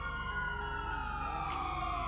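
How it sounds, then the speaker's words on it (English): Police sirens wail in the GTA 5 video game, a steady, continuous siren sounding at moderate distance over a constant engine and road drone, with no talking. "I can hear the police."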